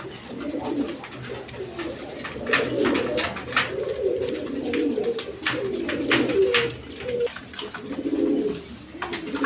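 Soft, rumbling coos of domestic pigeons repeat steadily throughout, several birds layered together at close range with light background noise; includes a white pair of Beauty pigeons.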